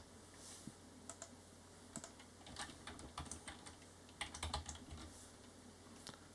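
Quiet tapping on a computer keyboard while searching for network settings in Control Panel, with irregular clusters of key presses over a low steady hum.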